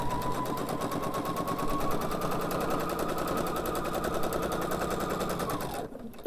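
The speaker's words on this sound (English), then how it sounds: "I'm simply going to go ahead and sew my scant 1/4 inch seam, and I'll chain piece these" A sewing machine runs a scant quarter-inch seam on a bias-cut triangle pillow piece, a fast steady mechanical rattle held close and loud for about six seconds before it stops abruptly.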